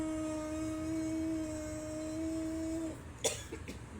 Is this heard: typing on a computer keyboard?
no